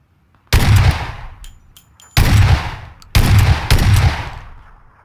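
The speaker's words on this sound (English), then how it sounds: "That's a shotgun" Shotgun fire in PUBG, four loud, heavy blasts, each trailing off in a long echoing decay, the last two close together, with no voices.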